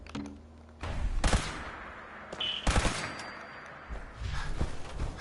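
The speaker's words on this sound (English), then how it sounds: "I hear gunfire." Bursts of gunfire in Fallout 4 crack out in clusters over a steady background hum, with a few sharp volleys spaced a second or so apart.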